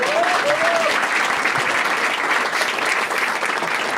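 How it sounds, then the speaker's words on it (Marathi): An audience at a Marathi stand-up comedy crowd-work show claps loudly and steadily, filling the whole stretch with dense, sustained applause. "चला याच्यासाठी टाळ्या वाजवा एकदा"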